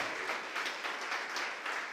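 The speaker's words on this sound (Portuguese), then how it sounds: "Você pode aplaudir o Senhor?" A church congregation claps together, a steady wash of many hands applauding, moderately loud and unbroken, with no voices over it.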